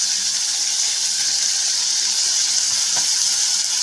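Loud, steady hiss of garlic paste sizzling in hot oil while cooking a beef tripe dish, continuous and close, with no talk.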